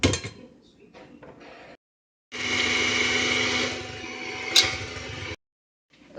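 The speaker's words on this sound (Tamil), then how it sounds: "இப்போது வெள்ளை வெள்ளைக்கரு மட்டும் எடுத்தாச்சு இது நல்லா பிளெண்ட் பண்ணிக்கலாம்" Electric blender whipping separated egg whites for macaroons, a steady motor whir lasting about three seconds after a brief pause, with softer kitchen handling sounds before it.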